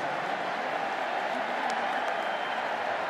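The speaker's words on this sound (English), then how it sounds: "You can hear kind of a mocking applause from the home crowd to Ladd McConkey fielding that punt cleanly" Home football crowd at a 2022 Kent State vs Georgia college game giving a mocking applause, a dense steady wash of clapping and crowd noise that holds throughout.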